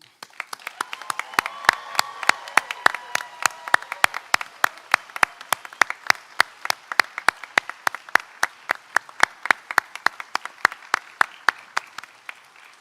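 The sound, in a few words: audience applauding graduates at graduation ceremony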